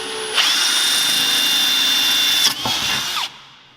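A power drill bores into a magnesium-alloy part for an E36 catch can kit, a loud steady whining motor run that dips briefly near the end before winding down and stopping.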